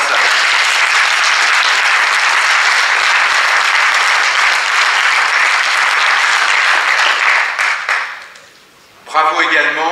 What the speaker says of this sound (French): vous pouvez les applaudir parce qu'elles sont dans la salle